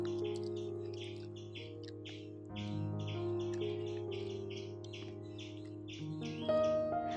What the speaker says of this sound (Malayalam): നല്ല കിളികളുടെ ശബ്ദമാണ്.